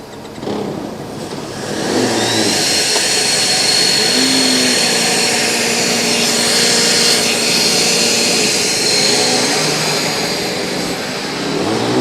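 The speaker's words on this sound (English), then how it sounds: "So we could actually hear some extremely strong fans on that Esslingen car" The Esslingen Formula Student car's strong cooling fans make a loud, sustained high whine and roar. The sound swells early and then holds steady close by, with a rising engine-like tone at a Formula Student acceleration event.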